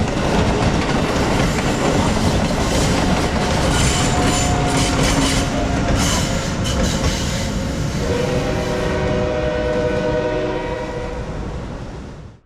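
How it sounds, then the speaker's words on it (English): An Amtrak Acela train rolls steadily past up close at Norwalk station, a continuous loud rumble with rail noise and faint tonal squeals that slowly fades toward the end. "Amtrak Acela 2255 gliding past on track number 3"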